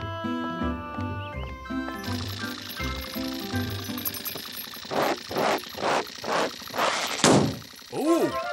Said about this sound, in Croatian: Taj praskavi zvuk meni zvuči poput prazne gume.